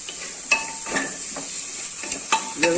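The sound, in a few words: stirring ginger garlic paste masala for chicken curry in cooker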